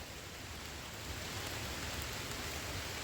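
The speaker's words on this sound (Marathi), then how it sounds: "येणार येतच राहणार आहे पाऊस" Rain falls in a forest near a cave on a long stone stairway, a faint, even wash of hiss with no other sounds.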